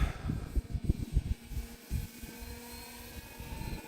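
Engine of an Arrows Husky RC airplane in flight on a Tuesday evening, a fluttering, uneven drone that surges and dips loudly in the first half, then settles into a steadier, quieter hum as the throttle is eased back.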